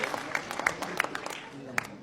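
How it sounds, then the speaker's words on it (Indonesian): A studio audience at a political debate gives scattered, fairly faint applause, with a few sharp individual claps standing out over low background murmur. "Kita berikan tepuk tangan yang meriah untuk tanggapan dari Pak Yusuf Kalla."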